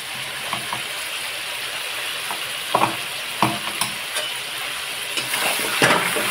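Chicken sizzles in a hot wok with a fried ginger, garlic and onion paste, a continuous crackling fry with scraping stirs and small clinks of a spatula against the pan.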